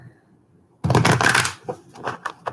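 A deck of oracle cards being shuffled by hand, a quiet lead-in followed by a dense burst of riffling and then several shorter, softer card flicks and taps, close up with no talking.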